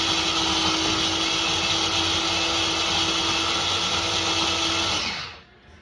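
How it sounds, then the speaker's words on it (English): A small blender whirs steadily as it purées basil pesto, a loud close motor drone with a constant whine that runs for about five seconds before switching off and winding down. "I have a small blender machine thing"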